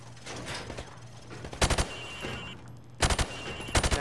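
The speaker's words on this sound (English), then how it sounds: "shoot at the targets while firing from the hip" A rifle fired from the hip at targets on a range in Modern Warfare Remastered: three loud, close bursts of rapid gunfire, each a quick cluster of shots, with quieter game ambience between them.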